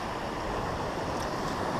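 Ocean waves wash steadily against coastal rocks at a rock fishing spot, with a continuous broadband roar of surf and a touch of wind buffeting the microphone.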